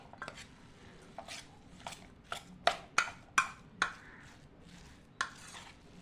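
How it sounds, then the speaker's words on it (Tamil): White chickpea vada batter is stirred and mixed in a bowl, giving a handful of soft, scattered clinks and taps of a utensil against the bowl, quiet and close with no talking. "நல்லா மிக்ஸ் பண்ணி எடுத்துட்டேன்"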